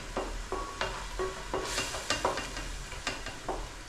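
Tomatoes frying in oil in a curry pan, giving a steady close sizzle with a spoon scraping and clicking against the pan every half second or so, and no voices.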